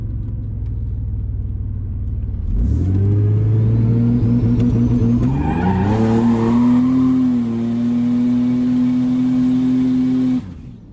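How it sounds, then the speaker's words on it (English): A turbocharged 4.3L car with a 4L60E transmission launching into a massive burnout, engine roaring up loud with rising pitch and sustained tire squeal, held several seconds before cutting off abruptly. "Massive burnout"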